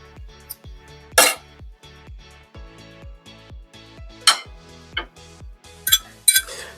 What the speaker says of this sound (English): Instead of dumping that out, I'm going to actually scoop it out.